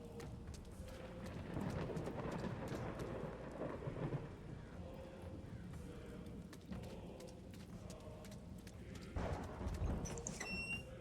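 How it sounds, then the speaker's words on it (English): Thunder rolls through a stormy video game scene set near a hedge maze, a deep, steady rumble mixed with rain that keeps going for about eleven seconds and swells louder toward the end. "Thunder and lightning. Very, very frightening."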